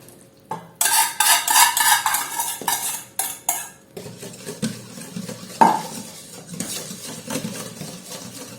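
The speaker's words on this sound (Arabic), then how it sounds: "نخلطو كامل المكونات" Brioche dough ingredients being mixed in a bowl, a utensil clinking and scraping rapidly at first, then slower stirring strokes with a sharp knock partway through, close by and without talk.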